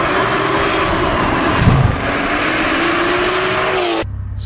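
A B58-engined car with an NVM520R hybrid turbo passes by, a loud, sustained engine roar with a rising-then-falling pitch and a brief surge midway, before cutting off abruptly near the end.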